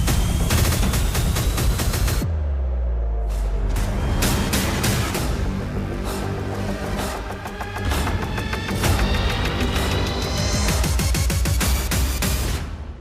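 Explosions and bursts of gunfire during an Iranian missile attack on Adana, Turkey, recorded by civilians: sustained loud crackling volleys with heavy low booms, dense and continuous with a brief lull, no talk.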